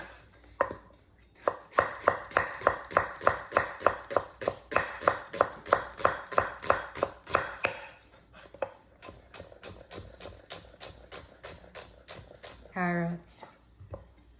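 Knife chopping onion on a cutting board, a fast steady run of sharp close taps that pauses and then resumes more lightly, with a brief metallic ping near the end.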